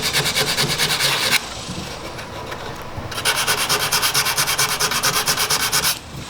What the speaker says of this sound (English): What I first use is 100 grit sandpaper and then a 220